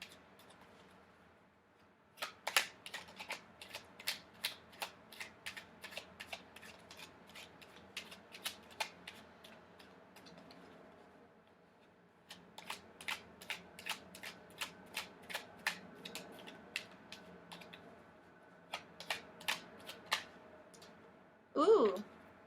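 Tarot cards being shuffled, their rapid crisp riffling clicks coming in two long bursts separated by a brief pause, with a short louder handling sound at the end; nobody speaks over it.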